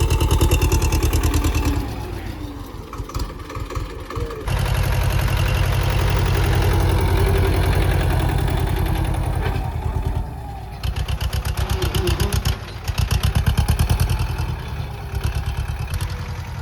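A tractor engine runs steadily at a low idle of about 900 to 1000 RPM throughout, with a deep rhythmic chug and a brief dip in the middle before it picks back up.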